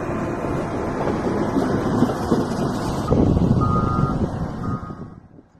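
A large road grader reverses on a roadwork site, its backup beeper sounding as steady tones over a loud, continuous diesel rumble that fades toward the end.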